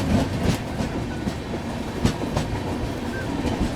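Trivandrum Rajdhani Express overtaking the Dwarka Express at Malarna railway station: a loud, close rush of train rumble with rhythmic wheel clatter and sharp periodic clicks over rail joints, no voices.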